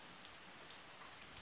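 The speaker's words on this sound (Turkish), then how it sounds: "bildiğiniz yağmur." Steady rain on the Black Sea coast falls in a dense, even hiss of drops, very faint and continuous with no voices.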